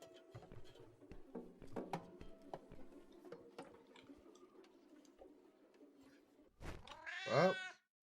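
A cat gives one short, close meow near the end after a quiet stretch of small knocks and taps indoors.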